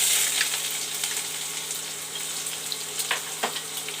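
Chopped onion hitting hot mustard oil after a tempering of mustard seeds and dried red chillies, a strong close sizzle with a few stirring clicks and spatters, no voices.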